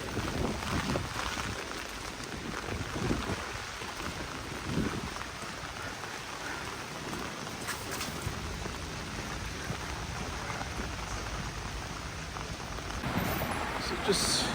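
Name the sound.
rain on a rainy day in London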